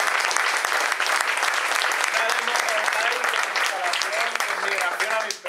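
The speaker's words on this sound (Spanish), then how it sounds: "Yo le daría un fuertísimo aplauso porque" An audience at a DevOps meetup talk on Ansible in Madrid bursts into loud, sustained applause, a dense wall of clapping with murmured voices underneath that cuts off abruptly at the end.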